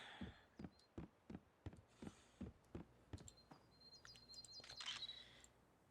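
Soft repeated steps of a character in the cozy video game Heartopia, then thin high bird chirps and tweets rising near the end, quiet and delicate over faint ambient background.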